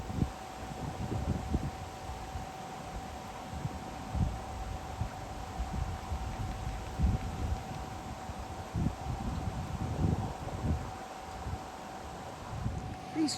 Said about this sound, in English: These trees sound like water.